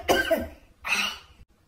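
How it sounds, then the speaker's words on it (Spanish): A person coughs twice, two close, loud bursts separated by a short pause, heard alone without talk. "¿Pero por qué tosiste?"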